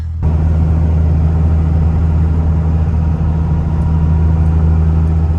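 A second-generation Cummins 24-valve diesel pickup drives along, its engine producing a loud, steady, low droning hum with a strong constant tone throughout and no talking.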